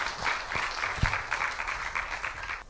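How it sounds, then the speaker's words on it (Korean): Audience applause greets a poet invited to read at a poetry-and-song concert marking a venue's first anniversary; steady clapping fills the whole stretch, fairly close, with no talk over it. "박수로 맞아볼까요?"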